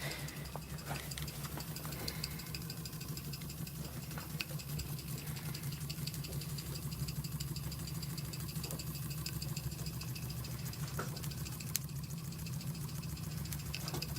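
Restored Mamod model steam engine on its first steam-up after restoration, ticking over slowly with a steady low hum and faint rapid ticks and rattles, constant and unbroken throughout.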